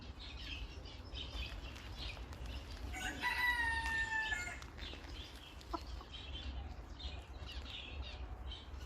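A Ko Shamo bantam fighting rooster crows once, fairly faint and a little distant, its strained call rising over steady low background noise, with a few soft clucks and squawks around it.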